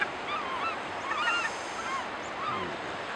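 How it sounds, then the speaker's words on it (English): Gulls calling at a coastal nesting colony, many overlapping squawks and cries at mid distance, repeated in loose bursts over a soft wash of surf and wind. "This is a gull nesting colony."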